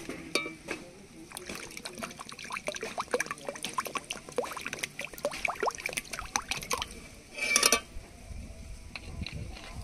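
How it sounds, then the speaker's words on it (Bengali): Water poured into lightly roasted, salted semolina in a pan for a sweet, a close run of small splashes and drips with a brief louder splash near the end, under intermittent talking. "এবার একটু জল দিয়ে দেবো।"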